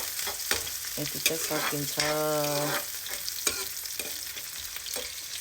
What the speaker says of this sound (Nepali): प्याज हालेर चलाइदिने,